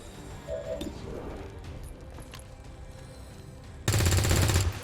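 Automatic gunfire from soldiers in the turn-based strategy game XCOM 2, a loud dense burst near the end that follows a stretch of quieter battlefield ambience.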